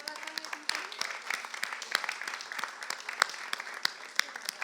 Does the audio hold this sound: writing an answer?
no